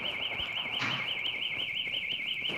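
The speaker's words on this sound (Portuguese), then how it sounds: "Quem tá com o alarme ali estragado, hein?" A car alarm out on a residential street, sounding a continuous warbling siren tone that repeats in a fast steady cycle, clear and fairly loud, with faint background noise beneath.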